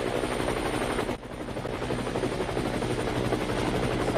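Helicopter rotor thumping loudly and steadily in a video game, a constant close chop with a brief dip around one second before resuming at full strength.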